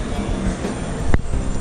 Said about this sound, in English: waiting to take the train right here behind me over to the other side of the airport